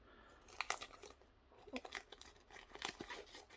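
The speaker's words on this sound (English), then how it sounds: "Let's cut some plastic." Small scissors from a modular multitool snipping through plastic: a few quiet, crisp cutting snaps and crunches spaced irregularly, close but faint, with no talk.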